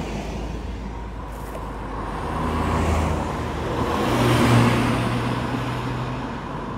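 Sports cars, among them an S2000, a Mustang, a Civic and a Miata, drive the winding Tail of the Dragon mountain road in the Smoky Mountains, heard as a steady engine drone that swells as they approach and pass.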